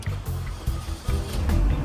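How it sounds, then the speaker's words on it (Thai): A supercharged Mini Cooper S engine rumbles to life, with deep pulsing throbs and short revs in a brief burst. "มาสตาร์ทรถฟังเสียงเครื่องยนต์กัน"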